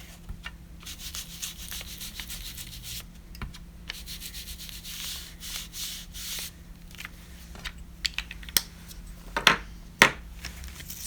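Red marker rubbed back and forth over brown craft paper for an advent calendar, a series of soft scratchy strokes, close and quiet, with a few sharper scrapes near the end.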